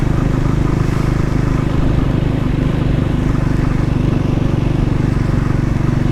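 Triumph Scrambler 400 X motorcycle engine under way on a ride, a loud, steady low-pitched thrum with rough rumbling texture, continuous and close, no voices over it.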